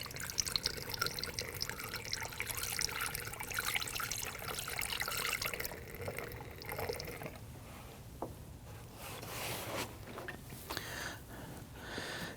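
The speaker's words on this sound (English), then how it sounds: "Grab a clean funnel. And we're going to add coolant." Coolant is poured through a clean funnel into the reservoir of a 2009-2017 Volvo XC60 3.2L inline-six, a steady close trickling flow that thins toward the end into lighter splashes and drips. No speech.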